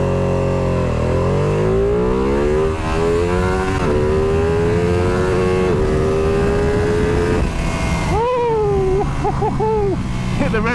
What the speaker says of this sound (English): Hit the rev limiter a few times there.